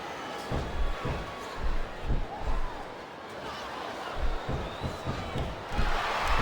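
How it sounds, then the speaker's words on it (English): A wrestling arena crowd at a three-way match rumbles with a steady roar and murmur, rising in swells, with scattered thuds and slams from the ring cutting through the noise. "Sounds like this crowd's got something on their minds"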